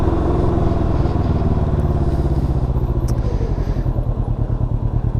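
Can-Am Ryker 600 three-wheeled motorcycle with a rear diff or drive noise after a rear collision, running steadily up close with a loud, throbbing low engine drone and clattery pulsing that quickens toward the end.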